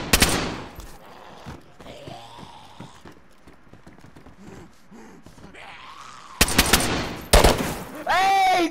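Gunfire in the DayZ video game rings out as sharp, loud bursts of rapid shots at the start and again near the end, with quieter game noise and faint sounds between them.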